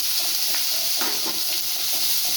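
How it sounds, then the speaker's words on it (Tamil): Onions fry in a pan while being stirred for a potato masala to go with puri, a loud, even sizzle with soft scraping strokes underneath. "வெங்காயம் போட்டு வணக்கிக்கலாம்."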